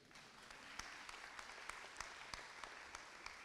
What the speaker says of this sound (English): Y'all clap for that.